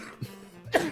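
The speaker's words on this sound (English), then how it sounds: "while he's coughing" A man coughs twice, short rough bursts close to the microphone, followed by a sharper, louder throat-clearing hack at the end.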